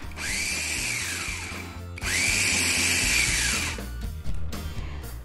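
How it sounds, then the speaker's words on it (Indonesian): A food chopper grinds chicken with four garlic cloves to a coarse texture in two loud whirring bursts, the motor winding up and down each time with a rattle and knock after, no talking. "Kemudian kita giling sebentar."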